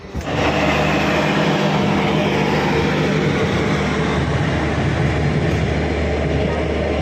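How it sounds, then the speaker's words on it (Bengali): The 13042 Howrah–Raxaul Express rumbles along steadily, heard from inside a third AC coach as a loud, continuous roar of wheels and carriage noise with no voices. "আমাদের ট্রেন ছেড়ে দিয়েছে পুরো 11টার সময়"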